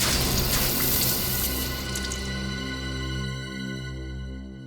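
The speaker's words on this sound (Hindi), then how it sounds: "पानी डालो इसे, उठा इसको।" Water poured onto a man lying passed out from drink, a loud rushing splash that fades into a tonal, humming ringing over several seconds, with no voices.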